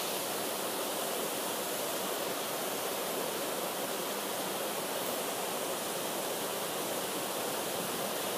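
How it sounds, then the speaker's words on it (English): A waterfall pours steadily on a hike, a constant broad rushing hiss of falling water with no breaks and no voices. "bringing you a waterfall"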